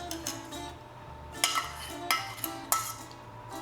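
Beaten eggs are worked into spinach pie filling in a bowl for spanakopita, producing sharp, close clinks of a utensil against the bowl at uneven intervals over a soft mixing sound.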